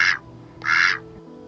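A duck quacks twice, two loud, raspy nasal calls about half a second apart with quiet between them.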